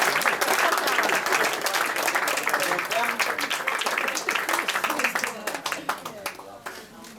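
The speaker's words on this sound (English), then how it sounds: "So I'd like you to give them a round of applause" A wedding audience applauds the organisers with dense, lively clapping that starts strong and thins out toward the end, fairly close, with some voices mixed in.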